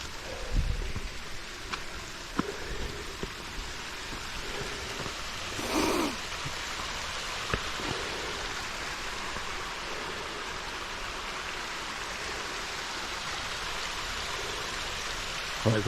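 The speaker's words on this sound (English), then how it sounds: "creeks go right over those rock faces like that" Creek water runs steadily over rock faces beside a stepped trail in the Appalachian mountains, a continuous near rushing wash with a few faint knocks and no talk.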